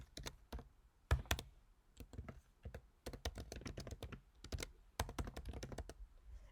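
Someone types an assignment title on a computer keyboard with quick, uneven bursts of close, crisp key clicks and a few heavier thunks from the space bar.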